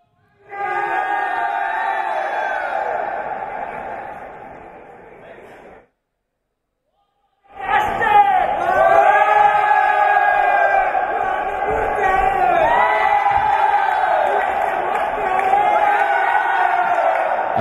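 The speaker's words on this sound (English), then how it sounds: "I hope you guys can hear the crowd." Esports arena crowd at a Games Arena winner bracket final, cheering and roaring loudly in a sustained wall of voices, breaking off briefly mid-clip before surging back with whoops and shouts.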